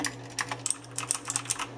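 Razer BlackWidow Ultimate 2014 mechanical keyboard with clicky switches being typed on up close, a quick irregular patter of loud crisp key clicks over a steady low hum.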